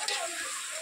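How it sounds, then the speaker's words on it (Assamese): Pork sizzles and fries in a pan, giving a steady, close crackling hiss that lasts through the brief clip. "এইয়া গাহৰি মাংস পুৰিছো ইফালে বাইদেউ ভাজি আছে"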